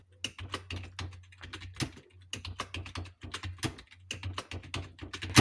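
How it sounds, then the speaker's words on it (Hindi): Keys clatter on a computer keyboard as Hindi text is typed in the Krutidev layout: quick irregular clusters of close, crisp keystrokes separated by brief pauses, with a low steady hum underneath and no speech. "इस तरह से आपका स्याही शब्द टाइप हो जाएगा।"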